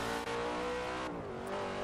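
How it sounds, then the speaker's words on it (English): A Hemi engine revs loudly in Forza Horizon 3, a steady, rich, close engine roar with strong harmonic tones that dips briefly and then climbs again, with no voices. "Listen to that engine. It's a Hemi."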